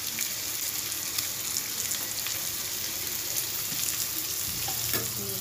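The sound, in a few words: stirring mutton masala frying in a pan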